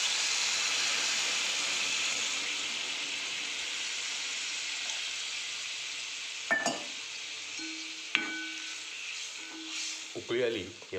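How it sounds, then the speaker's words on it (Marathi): Gavar (cluster bean) curry bubbles in a pan after water is added, a soft steady hiss and sizzle with a few short clanks of stirring near the end. "आता आपण पाणी टाकून घेऊया."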